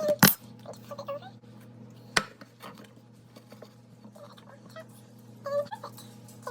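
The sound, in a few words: flipping a cake pan over onto a plate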